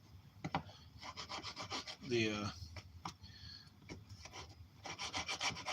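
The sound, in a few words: chisel cleaning up wood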